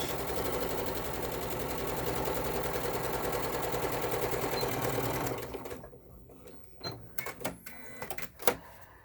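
A sewing machine runs steadily for about five seconds, stitching along the outside edge of a fold in fabric, then stops and leaves a few short handling clicks and taps.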